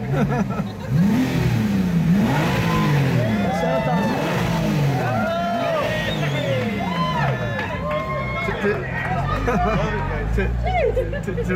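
A Porsche engine revs loudly in a crowded street during the Gumball 3000, with rising and falling sweeps of repeated throttle blips layered over engine rumble, crowd noise and nearby talk.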